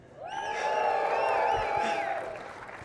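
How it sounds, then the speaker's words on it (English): An audience at a business talk cheers and whoops loudly together, a swelling burst of raised voices that holds for about two seconds before fading. "I need everyone to cheer as loud as you can"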